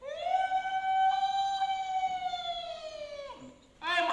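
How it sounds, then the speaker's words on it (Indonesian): A loud, sustained siren tone holding steady, then dropping away before a second burst begins, close by and without talk. "Oh, bunyi sirine."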